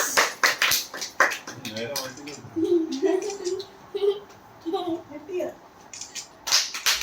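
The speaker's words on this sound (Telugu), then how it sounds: "క్లాప్స్." People at a retirement cake cutting break into bursts of hand clapping, sharp and close at the start and again at the end. Voices chatter and call out over the gap in the middle.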